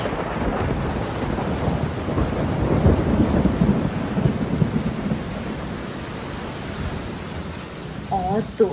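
Steady rain pours down with rolling rumbles of thunder building in the middle, a continuous stormy wash throughout.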